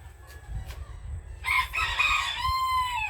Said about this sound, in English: Come chicken chicken.